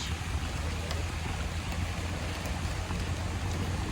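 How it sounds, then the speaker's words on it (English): Steady rainfall outdoors at Table Rock State Park in Pickens, South Carolina, on a gloomy day, a constant soft hiss with low rumble underneath, even and unbroken throughout, fairly faint. "I've got to because it's raining"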